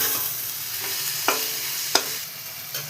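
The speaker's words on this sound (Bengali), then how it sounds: "তো বন্ধুরা দেখতেই পাচ্ছ কত সুন্দর মশলাটা একদম ভাজা ভাজা হয়ে গেল" Cumin, bottle gourd and spices fry in mustard oil with a continuous soft sizzle, punctuated by two or three distinct spatula scrapes against the pan.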